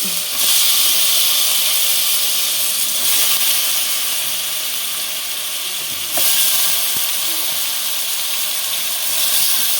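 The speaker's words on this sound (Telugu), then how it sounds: "ఇప్పుడు మనం వెంటనే ముందే శుభ్రంగా కడిగి పెట్టుకున్న ఈ తలకాయ ముక్కల్ని వేసేసుకుందాము." Pieces of goat head meat dropped into a hot pan with ginger and onion: a loud, steady sizzle and hiss that runs throughout, swelling slightly as pieces land, with faint clinks and no talking.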